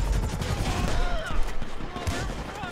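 Rapid gunfire in GTA 5 crackles in dense bursts, loud and close, over chaotic game noise with voices shouting.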